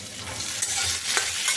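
Salted potatoes and carrots fry in a pan over low heat. A soft, continuous sizzle runs under brief scraping stirs and a couple of sharper clinks.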